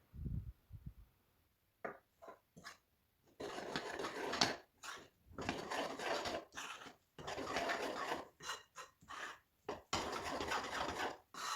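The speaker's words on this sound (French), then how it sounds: "on va mettre la farine, le sel et on va mélanger le tout" Flour, salt and water are mixed into bread dough for baguettes, heard as close scraping and rubbing strokes in uneven bursts with brief pauses between.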